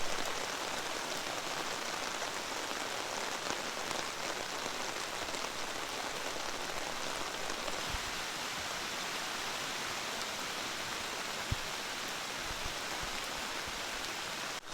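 Rain falls steadily on a camping tarp outdoors, a dense, even hiss of drops at constant loudness throughout with no voices.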